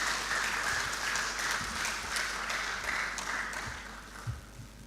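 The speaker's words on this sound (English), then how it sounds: "Another big round of applause to Ashan." A conference audience breaks into sustained applause, many hands clapping in a dense, even wash that holds steady before tapering slightly near the end.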